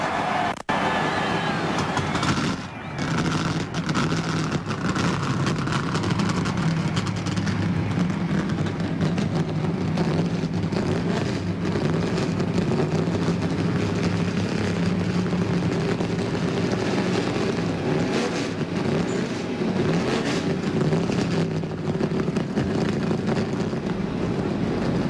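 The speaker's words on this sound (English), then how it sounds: "Gentlemen, start your engine." NASCAR stock car engines rumble at Daytona before the 1997 Busch Clash. A steady, distant low roar of many engines carries on under wind noise throughout.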